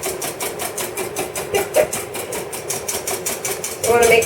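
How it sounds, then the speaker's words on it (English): Egg whites are beaten until frothy, a fast rhythmic whisking patter repeating steadily and close, with a brief voice at the end. "I have some eggs here, some egg whites, just egg whites, and I'm making them kind of frothy"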